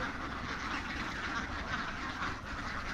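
Dense flock of ducks quacking continuously on a duck farm raising birds for eggs, a steady overlapping chorus of many birds, close and loud with no clear pauses.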